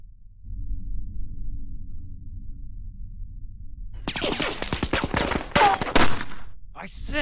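Rapid gunfire bursts erupt in a war drama battle scene set among paratrooper pathfinders, loud and dense for about three seconds after a low rumbling lead-in, with shouting voices mixed in.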